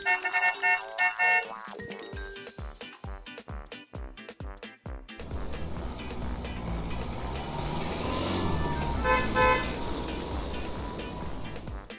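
In a children's game, a run of bright electronic horn beeps gives way to a continuous synthetic car engine drone that stays steady and fairly loud to the end.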